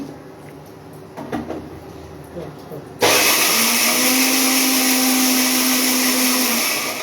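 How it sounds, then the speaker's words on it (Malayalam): A mixer grinder starts abruptly and whirs loudly and steadily, grinding peanut chutney with water, close by after a few quiet knocks and handling sounds. "ഇതിൽ അത്യാവശ്യം വെള്ളമൊക്കെ ഒഴിച്ചിട്ടാണ് അരച്ചെടുക്കുന്നത്"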